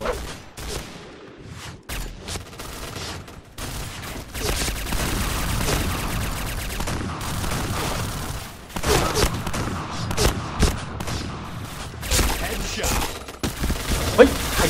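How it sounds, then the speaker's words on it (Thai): Gunfire in the online shooter game Point Blank, with dense, rapid bursts of shots and near-continuous firing that dips briefly before resuming at close range. "เฮ้ยใครยิงวะ"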